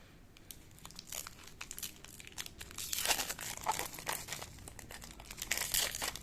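A Magic: The Gathering booster pack wrapper is torn open and handled, making close, crisp crinkling and ripping of foil plastic that gets louder toward the middle and continues in uneven rustling bursts.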